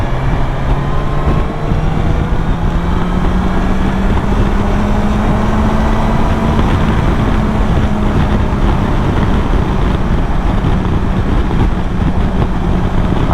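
A BMW S1000XR motorcycle engine pulls at high revs, a loud, continuous drone with a steady tone that climbs slowly, heard over strong wind and road rush.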